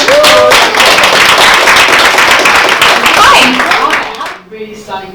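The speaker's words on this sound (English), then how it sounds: "Let's give her a round of applause." Audience applause and clapping at a London Fashion Week 2021 show as the designer is welcomed, a loud continuous roar of many hands for about four seconds, then fading as a voice begins speaking.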